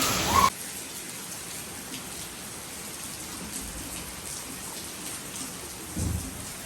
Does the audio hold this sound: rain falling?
yes